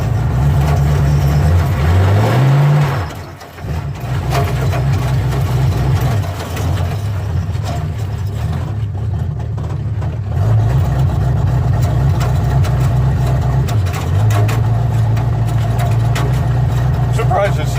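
A Chevrolet El Camino engine idles loud and close with a rough, lumpy drone, its pitch rising in a few brief revs while people talk over it.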